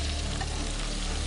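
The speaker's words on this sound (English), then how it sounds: "Barrington is pan-frying snapper to go with his coconut and callaloo soup starter." Snapper pan-frying in a pan gives a dense, close sizzle that holds steady through the brief moment with no voices over it.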